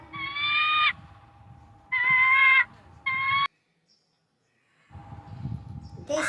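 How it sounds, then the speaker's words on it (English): A cartoon duck quacks in three loud nasal bursts, followed by a short silence and then a quieter rustling noise. "This is a duck. A very beautiful duck."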